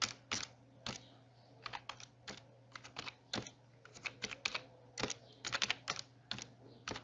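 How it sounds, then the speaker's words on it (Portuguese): Rapid, irregular clicks of numbers being typed on a computer keyboard while entering values into a spreadsheet, close and distinct with short pauses between bursts of keystrokes, no voices. "Vou digitar os valores"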